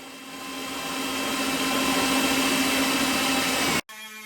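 A power cutting tool grinds steadily through rusty trunk floor sheet metal on a 1969 Pontiac, a loud continuous whining roar that swells and holds before cutting off abruptly, followed by a brief lower hum.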